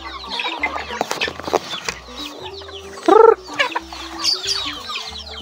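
Several native chickens cluck and squawk close by, one louder call rising sharply midway, with busy overlapping clucks throughout.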